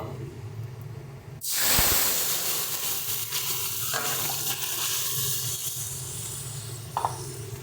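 Mustard seeds and dried red chilies hit hot oil with a loud, sudden hiss that settles into a steady crackling sizzle for several seconds, with small pops and clinks near the end, no talking.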